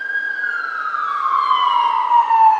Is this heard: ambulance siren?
yes